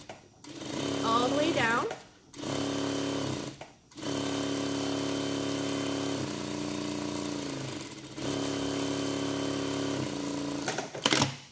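A sewing machine stitches a quarter-inch guide stitch along the hem of a baby's African-style dress, whirring in several steady runs with brief pauses between them, while a person speaks briefly.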